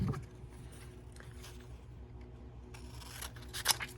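Scissors trimming a small square from glossy magazine paper, soft close snips and rustling rubs of the page, faint and intermittent, ending in a brighter cluster of cuts.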